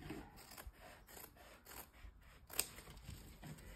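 Scissors snipping through placemat material for a tote bag, a series of quiet, close cuts in an irregular rhythm, with one sharper snip partway through.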